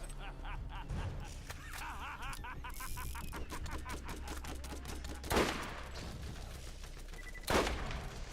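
Gunfire in the video game Tiny Tina's Wonderlands crackles in dense rapid bursts throughout, with two louder booming shots standing out, all faint and under steady game effects.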